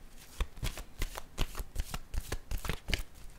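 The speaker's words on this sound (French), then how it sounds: "je vais piger une autre carte." Oracle cards are shuffled by hand in a quick series of crisp riffling flicks, close and clear, with a steady rhythm of about a dozen bursts.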